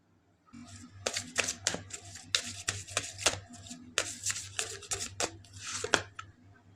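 Tarot cards being shuffled and drawn, a close run of crisp flicks, riffles and slaps of card stock against a low steady hum, lasting several seconds.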